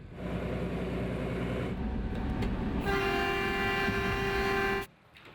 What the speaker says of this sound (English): Once the train has received the movement authority, it can start its journey.